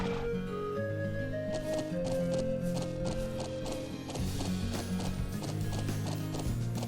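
Steady clip-clop of trotting hooves in a quick rhythm, with a horse whinnying briefly near the start, all over a continuous music bed in Trails of Cold Steel.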